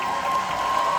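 An audience at a music festival concert in London claps steadily in a dense, continuous wash of applause, loud and close throughout, with no voices standing out.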